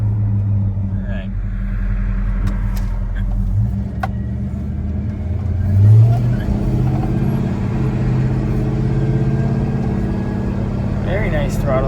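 A 1970 Chevrolet El Camino engine rumbles steadily on a test drive, a continuous low drone with a mild swell around the middle, with a voice talking over it.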